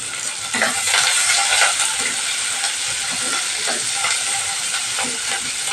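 Onion frying in a pan makes a loud, bright, steady sizzle close by, with occasional scrapes of a spatula stirring through it and no talking.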